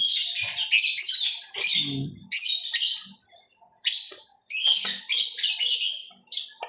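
A baby bird being fed gives loud, shrill, close chirping in repeated bursts, with brief pauses and a low squawk between them.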